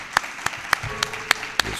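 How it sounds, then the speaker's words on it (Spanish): Six sharp, evenly spaced hand claps ring out, crisp and close, with nothing else around them. "Pues un fuerte aplauso para Carlos."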